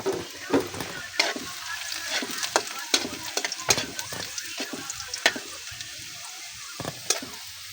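Ingredients frying and browning in a pan for an Ilocano dish, a steady close sizzle broken by repeated sharp scraping stirs of a utensil.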